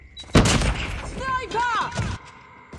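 Gunfire in the Call of Duty video game, a loud sharp burst near the start followed by a sustained rattle of shots and explosions lasting about two seconds, with a player's voice talking over parts of it.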